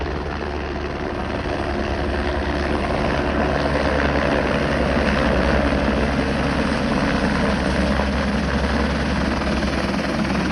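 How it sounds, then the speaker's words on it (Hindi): Helicopters arriving and departing at the Kedarnath helipad produce a loud, continuous rotor and engine roar with steady low thumping that dominates throughout, with no talk. "ये आपका हेलीपैड भी बना हुआ है जहाँ पे आप देखिए लगातार आपके हेलीकॉप्टर आ रहे हैं और जा रहे हैं"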